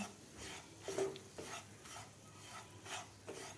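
Semolina (rava) roasting in a pan over a medium gas flame, stirred with repeated soft scraping strokes against the pan and a faint sizzle, quiet and close.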